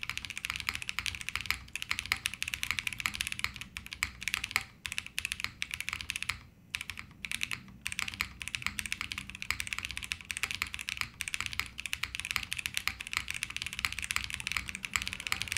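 Steady, fast typing on a KBDFan KBD8X top-mount mechanical keyboard, with dense, crisp keystrokes that run continuously and close up, broken by a brief pause midway, and no voices.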